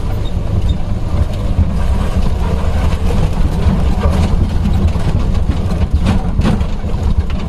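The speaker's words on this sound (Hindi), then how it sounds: "जिप्सी की आवाज में आपको डिस्टर्बेंस हो रहा होगा।" A Gypsy jeep engine labours as it climbs onto a forest track, a loud steady low rumble with rough revving throughout, no voices.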